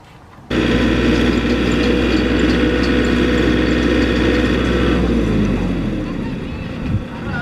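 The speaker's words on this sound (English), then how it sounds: "It's now time to go drill the holes with the tractor." A tractor engine roars to life and drones loudly as the auger drills post holes into dry, hard soil, the pitch shifting partway through.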